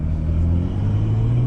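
A 500-horsepower BMW 440i engine revs hard from the cabin, a loud, deep drone that climbs steadily in pitch over a second and a half; no talking.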